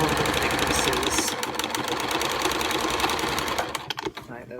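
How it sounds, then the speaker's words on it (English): A sewing machine runs steadily, stitching through several layers of mask fabric. Its fast, even motor whir holds for most of the stretch, then stutters and slows to a stop near the end. "Sewing through all the thicknesses"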